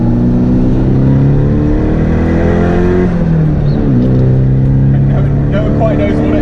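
Car driving on the motorway, a loud, constant engine drone with road and wind roar from inside the cabin, the engine note shifting in pitch partway through.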